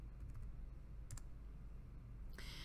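Several soft keystrokes on a computer keyboard, faint and close, typing a short number into a program with a low steady background hum.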